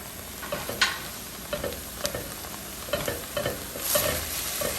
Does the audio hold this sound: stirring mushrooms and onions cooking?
yes